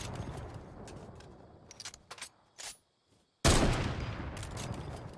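Sniper rifle gunshots in a shooter game arrive as several sharp cracks, followed by a short silence and then a sudden loud blast with a rumbling tail.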